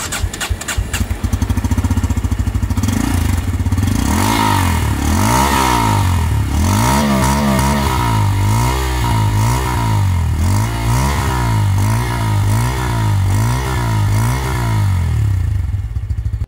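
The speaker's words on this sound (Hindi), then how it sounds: "जस्ट मैं आपको इंजन को फायर अप करके दिखाता हूँ कि ये बाइक साउंड कैसे करती है" A Bajaj Pulsar N160 165cc motorcycle with an underbelly exhaust fires up with a starter clatter, then settles into a loud, close idle and is revved repeatedly in rising and falling blips.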